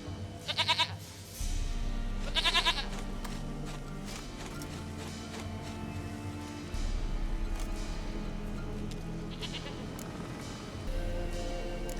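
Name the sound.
goat bleating in the video game The Witcher 3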